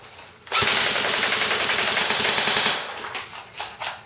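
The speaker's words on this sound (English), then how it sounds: "Now I'm just gonna go full auto on the box." A Black Ops M4 airsoft rifle fires a loud sustained full-auto burst into a box, a fast rattling stream of shots lasting over two seconds before it tapers into scattered softer clicks and handling noise.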